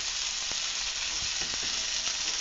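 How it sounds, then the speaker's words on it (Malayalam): Loud steady sizzle as chopped tomatoes go into a sautéed mixture frying in a pan, a dense close hiss with a few soft taps and stirring clicks. "ഇതിൻ്റെ അകത്തേക്ക് അരിഞ്ഞു വെച്ചിരിക്കുന്ന തക്കാളിയും കൂടി ഇട്ട് കൊടുക്കാം"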